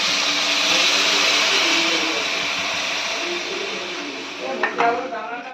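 Water poured into a pan of fish roe fritter curry, a steady loud rushing hiss that runs for several seconds and slowly fades, ending in a few small clinks against the pan.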